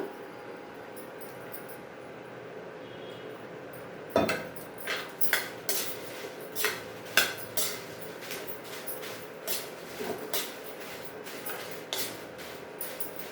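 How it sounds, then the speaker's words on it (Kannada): Dried Guntur chillies roast in a pan with a little oil: a quiet hush at first, then rhythmic clinks and scrapes of stirring against the metal, fairly soft and close. "ಮೆಣಸಿಕಾಯಿ ಹುರಿತಾ ಇದ್ದೀನಿ ನೋಡಿ"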